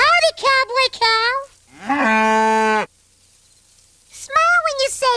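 A cow called Cowboy Cow moos in several long, tonal calls, loud and close, with short gaps of silence between them and no talk over them.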